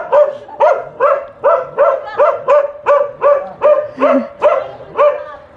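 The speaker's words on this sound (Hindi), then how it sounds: "कितना भौंक रहा है इन पे" A tied-up dog in a Himalayan mountain village around Kapkot barks loudly and close, about a dozen sharp barks in an even, steady rhythm.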